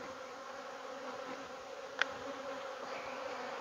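Honeybees drone in a steady, close, continuous buzz during an open hive inspection as comb is handled, with one sharp click partway through.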